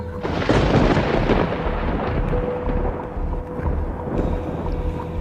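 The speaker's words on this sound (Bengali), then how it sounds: "প্রচণ্ড শব্দ করে বজ্রপাত হলো" A thunderclap rumbles through a horror story narration, a loud, booming roll that swells early and then trails into a long, windy growl.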